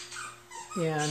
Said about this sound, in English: one of my dogs playing with his toy.